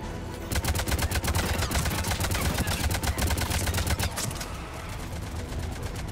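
Rapid automatic gunfire in the video game Mass Effect 3 rattles in dense, continuous bursts for about four seconds, then eases into a quieter, busier stretch of game noise.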